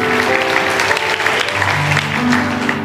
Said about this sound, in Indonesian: Kasih tepuk tangan untuk mereka semua,